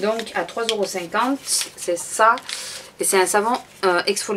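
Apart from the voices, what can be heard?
No distinct noise like a dog, phone or traffic.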